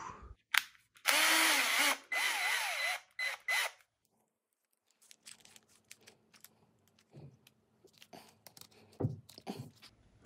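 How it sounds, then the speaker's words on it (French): A small drill bit bores pilot holes into an old wooden plank, one loud whirring burst early on, then quiet handling clicks and faint knocks. "Et maintenant, je mets la mèche très petite pour faire les pré-trous."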